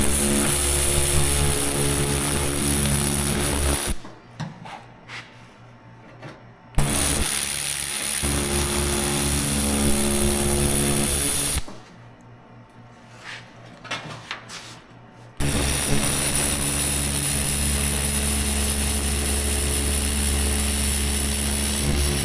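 A power tool cuts into a car hood while panel gaps are being reworked, grinding loudly and steadily in long bursts that stop twice for a few seconds before starting again.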